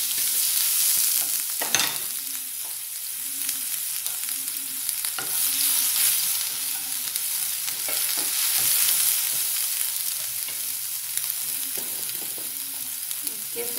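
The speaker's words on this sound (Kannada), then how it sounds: "ಮಿಕ್ಸಿಗೆ ಹಾಕ್ಕೊಂಡಿರುವಂತಹ ಮೆಣಸಿನಕಾಯಿ, ಜೀರಿಗೆ, ಶುಂಠಿ, ಕರಿಬೇವು ಸೊಪ್ಪಿನ ಮಿಶ್ರಣ ಹಾಕ್ತಾ ಇದ್ದೀನಿ ಇವಾಗ." A ground mixture of chilli, cumin, ginger and curry leaves fries in hot oil for a moong dal and spinach palya, a steady close sizzle with regular rhythmic scrapes of stirring throughout.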